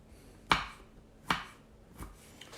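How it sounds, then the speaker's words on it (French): A kitchen knife chops raw tuna for tartare, landing three crisp, separate cuts on a board, the last one softer, in a quiet room. "je coupe très finement"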